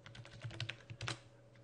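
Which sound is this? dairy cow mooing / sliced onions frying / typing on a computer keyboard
typing on a computer keyboard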